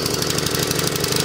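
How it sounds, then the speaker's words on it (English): An old John Deere sidewalk edger runs steadily with its PTO engaged and the blade turning, a loud, close, chugging small-engine drone with a rapid regular pulse and no talking. "I'll engage this PTO so you guys can at least see that this blade will turn."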